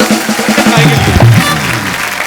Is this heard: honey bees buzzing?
no